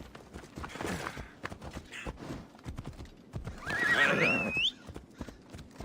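In the video game Assassin's Creed Odyssey, hooves clop in a steady rhythm, then a horse lets out one clear whinny before the clopping resumes.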